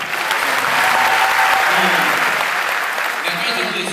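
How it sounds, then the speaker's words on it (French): Steady, loud crowd applause fills an event gathering in Niamey during Tabaski, with a voice talking over the clapping throughout. "un ambassadeur, ça mérite beaucoup d'applaudissements et merci de m'applaudir"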